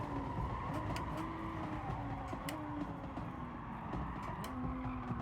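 Race car in Gran Turismo Sport on soft sport tires brakes late into a corner, engine droning steadily with tire scrubbing and squeal, close and continuous.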